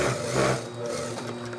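A sewing machine stitches a bodice placket from the neckline edge along a folded line, a steady close whirring run with no voice over it.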